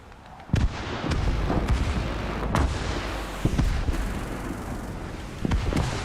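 A War Thunder missile barrage sets off a string of sharp booming explosions, several heavy blasts spaced irregularly over a continuous rumbling roar, loud and close.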